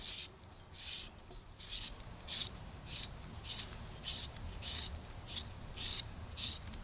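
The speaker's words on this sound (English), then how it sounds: "Take your knife and cut it into thin strips like this." A knife cutting cucumber into thin strips: a steady series of about ten crisp, evenly spaced slicing strokes, close and fairly quiet, with no talking.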